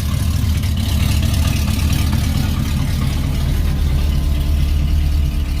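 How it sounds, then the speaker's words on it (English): A cold big block Foxbody V8 idles with its mufflers cut off, a loud, steady, rumbling low idle that holds throughout without voices. "It's still cold. Idling's not come up yet."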